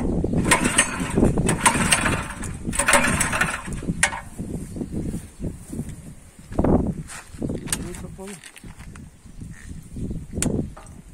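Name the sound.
Kaan 26S tiller engine running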